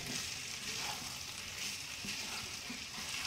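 Jackfruit and potato curry is stirred in a pan. It makes a steady, faint hiss of frying with soft, occasional stirring under it, continuous throughout.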